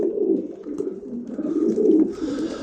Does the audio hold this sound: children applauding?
no